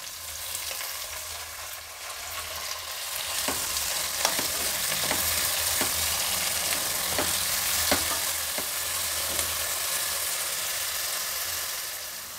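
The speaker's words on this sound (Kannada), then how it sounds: "ಈಗ ಟೊಮೆಟೊ ಮತ್ತು ಈರುಳ್ಳಿ ಎಲ್ಲನೂ ಸ್ವಲ್ಪ ಹುರಿದಿದ್ದಾಗಿದೆ." Tomato and onion fry in a pan with a steady, loud sizzle and a scattering of sharp crackles and pops throughout, no voices.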